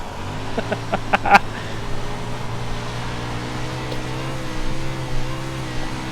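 Game-engine drone of a 410 winged sprint car on a dirt oval in iRacing, a steady low hum with harmonic bands running throughout, a cluster of sharp clicks and knocks early on, and a flat, moderate level with no voices.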